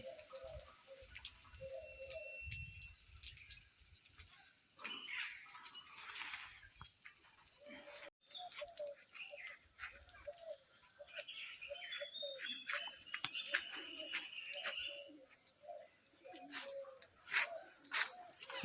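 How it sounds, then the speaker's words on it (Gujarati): Pigeons gathered to feed on scattered grain on a rainy-season day at a temple coo repeatedly in soft, low, rhythmic calls, with flutters and light ticks around them and faint voices in the background. "કેટલા પક્ષી આવી ગયા છે."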